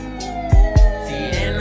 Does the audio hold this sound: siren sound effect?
yes